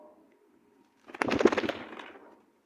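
Pet pigeons cooing close by, a soft rolling coo that swells in after a quiet stretch and lasts about a second before fading out, with no talking over it.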